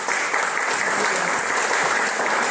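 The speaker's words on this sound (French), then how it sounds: "je peux l'applaudir très fort" Audience at a religious lecture applauding a guest warmly, a continuous full round of clapping held at an even level, with no speech over it.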